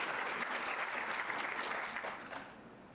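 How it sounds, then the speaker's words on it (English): A conference audience at an African-American history and culture gathering claps in a full, even round that tapers slightly toward the end, heard alone without speech. "you can clap to that."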